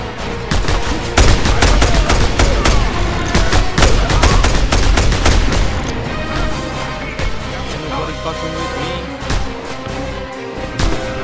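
Gunfire in the action game Just Cause 2, dense automatic shots crackling in a loud, nearly continuous barrage that thins into scattered reports and background rumble in the latter half.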